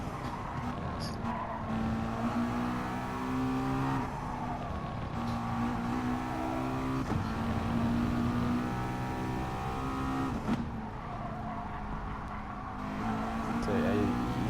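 Race car engines in the video game Gran Turismo Sport, during an official FIA manufacturers race, whine and rev continuously, with pitch climbing and dropping through gear changes, brief tire squeals and faint passing cars.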